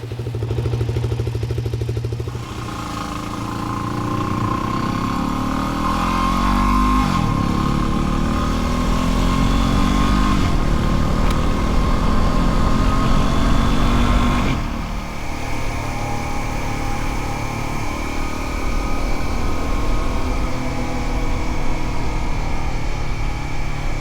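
A motorcycle rides along through mist, its engine droning steadily at close range with shifting pitch as it accelerates and changes gear, running loud and continuous throughout without any talk.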